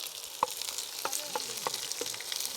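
Onion frying in a pan, heard as a faint, steady sizzle with a few soft scraping stirs and light taps at intervals.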